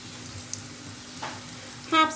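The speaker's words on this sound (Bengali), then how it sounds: "আমার পেঁয়াজটা হালকা গোল্ডেন কালার হয়ে গিয়েছে" Onion fries in a pan with a quiet, close sizzle that swells into a brief, louder crackling burst near the end.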